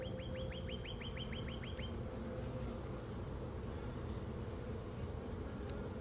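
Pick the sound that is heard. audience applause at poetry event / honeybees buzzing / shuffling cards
honeybees buzzing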